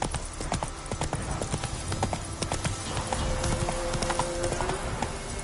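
Roach, a horse in The Witcher 3, gallops with rapid, steady clip-clop hoofbeats close by, joined by a faint whinny and a thin tonal hum near the end.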